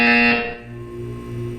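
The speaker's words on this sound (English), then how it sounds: "When you hear the buzzer, look down at the floor." Loud electronic buzzer in the video game Portal 2, a harsh tonal blast that cuts off after a fraction of a second and leaves a faint humming tone behind.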